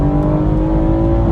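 A stage 2 tuned, 420-horsepower BMW M140i engine roars steadily at high revs under hard acceleration, a dense, loud, continuous drone with strong low rumble, heard up close and alone.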